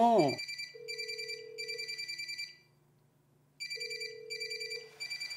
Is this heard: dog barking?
no